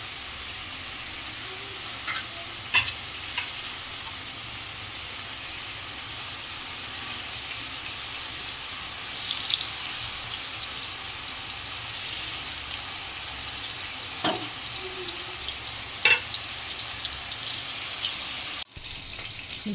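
Fish frying in a pan in a home kitchen gives a steady, even sizzle and hiss that runs throughout, with a few faint clinks and stirs and no voices.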